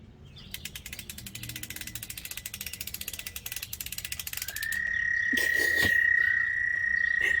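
Toads trill in a fast, rattling pulse of croaks that speeds up, then a steady high-pitched whine cuts in and continues over it.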